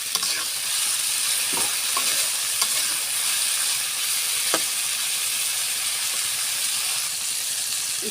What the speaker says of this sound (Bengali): লবণ দিয়ে আমি করলাটাকে সুন্দর করে ভাজা ভাজা করে নেব